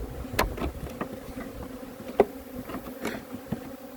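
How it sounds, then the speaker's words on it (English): Bees buzz close by in a low, continuous drone, with individual insects zipping past now and then; no talking. "The bees are hanging out down here trying to protect it though."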